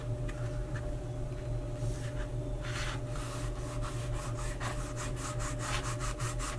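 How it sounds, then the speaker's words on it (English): A glued wooden axle piece for a small wheel box is rubbed into place with quick, light scraping strokes, repeated rhythmically close up over a steady background hum. "I'm just rubbing it lightly to get it in place."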